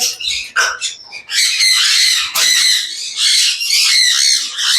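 Loud, harsh bird squawks fill the air almost continuously, close by, with a few brief breaks between bursts.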